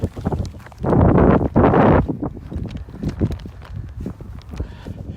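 Wind gusting across an open field on the Sussex Downs during a dog walk, a loud roaring buffet of about a second then a second, followed by lighter breezy rustle with scattered footsteps.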